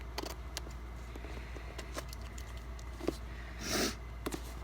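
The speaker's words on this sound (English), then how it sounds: "Excuse my sniffles" A single wet sniffle rises briefly out of a quiet room on a humid day, with scattered small clicks and handling noises from craft work, close to the microphone.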